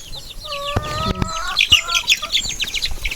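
Backyard chickens cluck and chirp in short overlapping calls, several birds close by in a quick, busy cluster of sounds.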